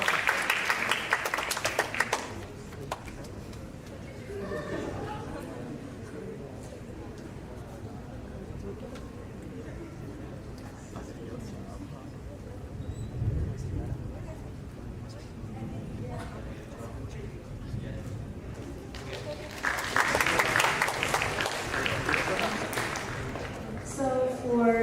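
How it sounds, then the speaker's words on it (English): An audience at the grand opening of a summit applauds a game winner, with bursts of clapping at the start and again near the end, and a host speaking in between. "Let's give her a round of applause."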